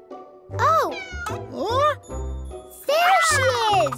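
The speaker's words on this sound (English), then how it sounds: "It does sound like a cat." Cat meowing in a children's animated show, several drawn-out meows in a row, bright and close, with a small jingle near the end and a child-like voice mixed in.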